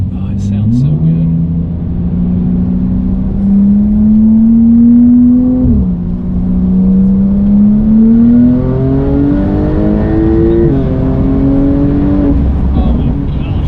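A Lamborghini tuned to about 660 horsepower with a bolt-on aftermarket exhaust revs loud and close, its engine note climbing in long sweeps with a sharp drop midway, while a voice talks over it.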